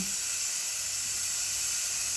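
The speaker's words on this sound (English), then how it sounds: "You can see I'm letting the steam off. It has a little button up here to release the steam." Steam hisses steadily from the release button on a cooker holding a beef roast with potatoes and carrots, a continuous broadband rush at constant level with no voices.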